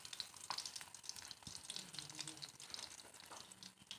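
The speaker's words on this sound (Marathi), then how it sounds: "तर मित्रांनो आपलं आता तेल तापलं आहे. तर लसूण टाकून घेऊया याच्यामध्ये." Garlic fries in hot oil in a home pan with a soft, crackling sizzle, fairly faint and uneven, with small pops throughout and no talk.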